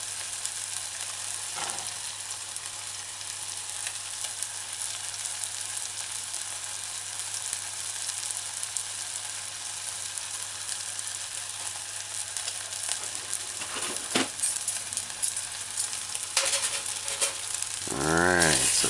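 Chicken and broccoli stir-frying in a saucepan over a medium-high stove, a steady, close sizzle running throughout with a few brief scrapes and rattles of stirring near the end.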